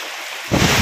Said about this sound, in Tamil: அந்த அளவுக்கு சரியான மழை.